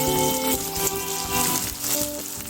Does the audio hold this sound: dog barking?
no